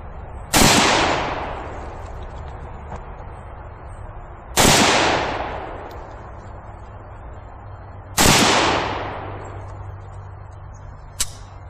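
An AK rifle fires three separate single shots several seconds apart, each a loud, sharp crack followed by a long echoing tail, with no talking in between.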